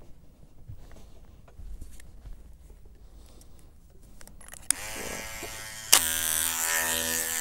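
Electric clippers fitted with a number 10 blade trimming a cocker spaniel's ears: quiet rustling at first, then a loud steady buzz switches on, with a louder buzz after a short click.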